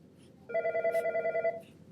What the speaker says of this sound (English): Oh, I got to get the phone.